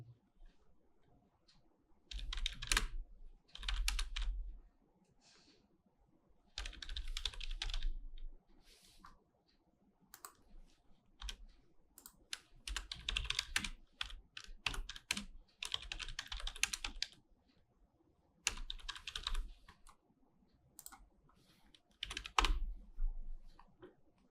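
Clusters of quick, light keystrokes on a computer keyboard typing code for a React JS lesson, close and moderately quiet, arriving in bursts separated by brief silences, with no speech.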